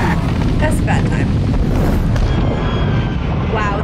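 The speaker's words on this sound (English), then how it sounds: "It's a massive explosion." A massive explosion in the 2012 film The Avengers rumbles as a loud, sustained roar with crackling debris, continuous throughout amid other film noise.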